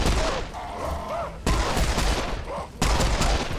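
Dense, loud gunfire mows down processed humans in the shooter game Serious Sam 4, with rapid sustained bursts cut by two abrupt breaks before firing resumes.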